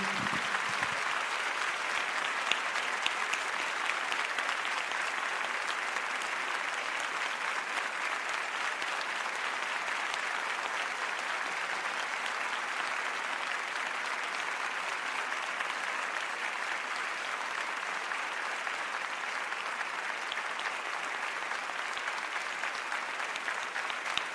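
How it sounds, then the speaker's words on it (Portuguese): A church congregation claps in praise to Jesus during a service, a dense, steady wash of applause from many hands that holds evenly throughout with no voices breaking through. "dando uma salva de palmas a Jesus."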